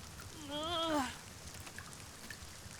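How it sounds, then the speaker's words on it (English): Rain falls in the video game Dragon's Dogma 2, a soft steady hiss of drops. A brief sung or spoken voice rises over it early, then only the rain continues. "If we prop up our tent, we might take shelter from the rain."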